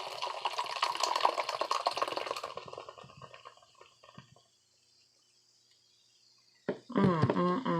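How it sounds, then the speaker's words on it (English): Beer poured into a cup over a lime slice: a few seconds of fizzy liquid splashing and bubbling fade away into near silence, then a louder clatter of handling noise comes in at the end. "I'm going to go ahead and throw that at the bottom of the cup and pour my beer on top of it"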